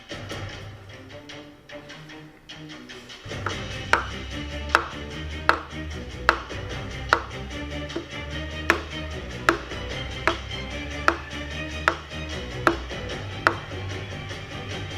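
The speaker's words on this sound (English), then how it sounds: "He's Chris Adams playing on the whiteboard on the plastic pickle tub" Hands drum on a plastic pickle tub, giving a steady run of sharp, hollow knocks at a regular beat that enter after a few seconds over a busy low background.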